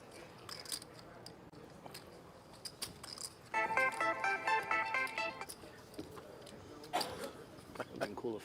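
A phone rings briefly at a televised WSOP $1,000 Battle of Ages poker tournament, a short electronic ringtone burst over the murmur of chips and commentary voices.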